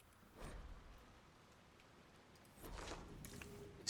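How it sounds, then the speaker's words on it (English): Steady rain over a swamp in the video game Dragon Age: Inquisition, a soft broadband hiss that swells twice with heavier downpour, with no talking. "We went from a very rainy coastline to a very rainy swamp."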